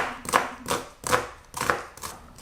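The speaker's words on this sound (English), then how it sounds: "cut the onion." A knife chops through an onion on a cutting board in five evenly spaced, crisp strokes about half a second apart, close and moderately loud, with no one speaking.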